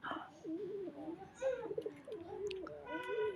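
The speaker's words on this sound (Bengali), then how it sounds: "এটা হচ্ছে নরকবুতর" A male pigeon kept in a flat coos in a soft, low, rolling series of calls, close and fairly steady across the stretch, with a few faint higher chirps in the background.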